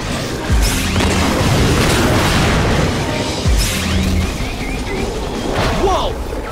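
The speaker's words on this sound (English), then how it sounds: "Did you see that Evo explode?" An Evo enemy blows up in the Xbox 360/PS3 game Generator Rex: Agent of Providence, heavy booms and crashes over constant game noise, with voices speaking during the action.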